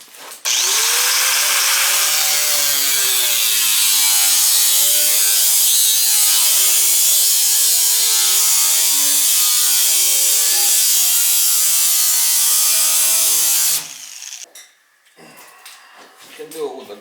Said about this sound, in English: Cut it with the grinder, but probably better off with a nibbler.